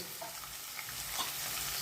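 Green chillies and curry leaves hit hot oil while cooking batata poha, a brief close burst of hissing sizzle and stirring that holds steady and loud for a couple of seconds.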